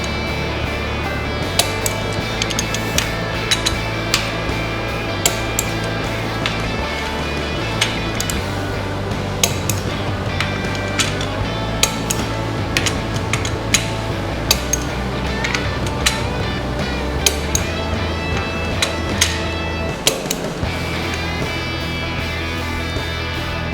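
Metallic clicks and clinks from a torque wrench tightening head bolts on a Cummins 12-valve diesel engine, repeating in sharp irregular ticks over a steady low hum through most of the stretch.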